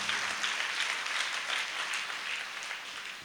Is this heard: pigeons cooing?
no